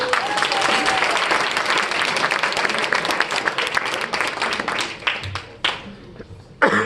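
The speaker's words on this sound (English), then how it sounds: "I'd just like to give a little applause for Coach." Applause for the coach at a swimming team banquet in a country club, steady crowd clapping that rings out for several seconds and then breaks up into scattered last claps and a few loose hits.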